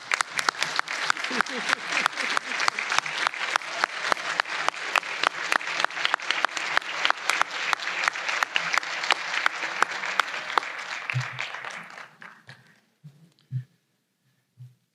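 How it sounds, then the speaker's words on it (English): A large audience at a College of Humanities graduation convocation claps loudly for about twelve seconds, a thick sustained burst that then thins out into a few scattered claps and murmurs. "let us give you a very well-deserved round of applause for your support of your graduating friends and family"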